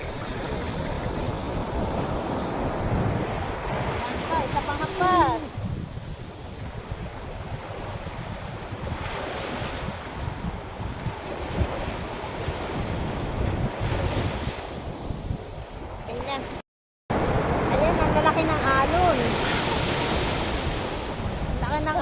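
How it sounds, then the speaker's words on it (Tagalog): Strong ocean waves crash and roar continuously, heavy surf mixed with buffeting wind noise on the microphone, loud and close throughout with a brief dropout near the end. "Grabe, ang lakas ng alon."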